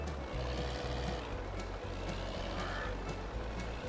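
A tractor in Farming Simulator 22 labours across very wet ground, its engine a low continuous drone with a steady hum and faint rhythmic clatter throughout, no talking heard.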